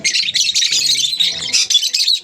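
A pet bird giving a rapid run of harsh squawks and chirps, close and loud, in short repeated bursts with brief gaps.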